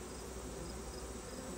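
A faint, steady buzz of bees hums continuously without pause, soft and close, with no voices.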